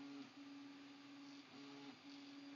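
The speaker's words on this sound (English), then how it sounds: "I'm trying to talk a little louder because my 3D printer is going in the background." A 3D printer runs faintly in a quiet room, a soft steady hum with a sustained motor tone that briefly dips and resumes a few times.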